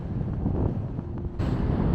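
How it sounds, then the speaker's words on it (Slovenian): Strong wind buffeting the microphone on Vrtača, a summit in the Slovenian Julian Alps reached by a gully route, a continuous low roaring rumble that swells louder near the end. "Upam, da ne bo preveč pihal, oziroma ste slišali pihanja."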